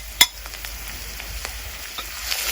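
Garlic and ginger frying with golden brown onions in a pan: a steady hiss of sizzling oil with a sharp clack near the start and a few light scrapes.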